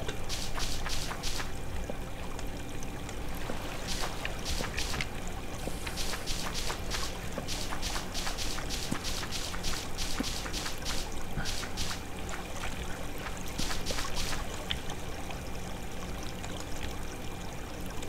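Water flowing steadily in the block-building video game Minetest, a continuous rushing stream with faint irregular clicks and taps over it, heard alone without talk.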